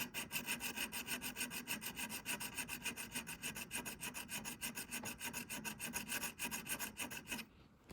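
A file is worked steadily against the cutting-tooth faces of a Forstner drill bit, giving close, continuous rasping strokes in quick rhythm with no voices, ending abruptly near the end.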